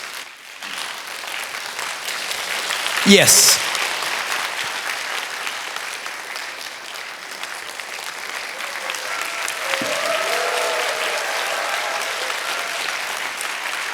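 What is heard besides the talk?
audience applause and cheering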